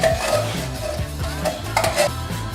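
Canned creamed corn goes into cornbread batter with wet, thick plops and stirring scrapes against a bowl, several short, close, moderately loud bursts.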